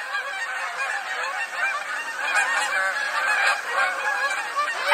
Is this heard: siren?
no